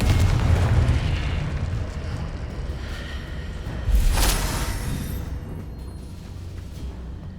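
Confringo spell blast in Hogwarts Legacy: a loud, rumbling explosion with a long, dense roar that fades slowly, and a sharper crack partway through.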